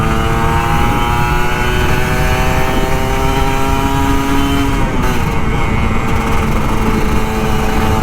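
A Kawasaki Ninja RR 150 two-stroke sport motorcycle revs steadily while riding on a morning road, its engine tone loud and close with rising and falling harmonics and constant wind rush.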